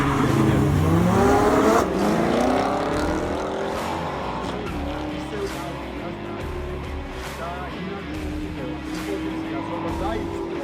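A drag race car engine revs and drones, rising in pitch, under continuous excited commentary from a speaker.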